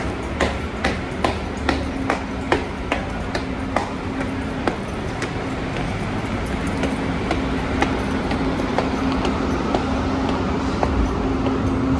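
A Railjet train at Bolzano station, a steady low rumble with a sustained tone and regular rhythmic clacks of wheels over rail joints, moderately loud and continuous.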